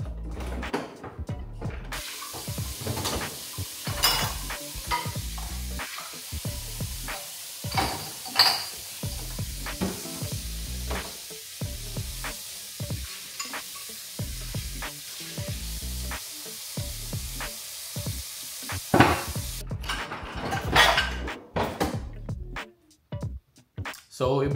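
Frying pans being washed by hand at a kitchen sink, with running water, scrubbing and repeated clanks and knocks of metal pans, close by, while someone talks at times.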